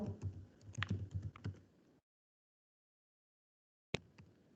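Typing on a computer keyboard into an HTML form, a quick run of close, light key clicks, then silence, then one sharp tap followed by a few more keystrokes.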